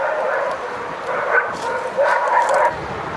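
A man imitates dog barks with a few short, yappy voiced barks and whimpers, spaced irregularly and fairly close.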